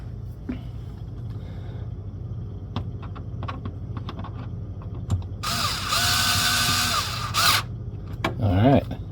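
A plastic refrigerator panel screw driven back in with a power driver during a thermostat replacement, with light clicks and handling noise, then a couple of buzzing driver bursts close up.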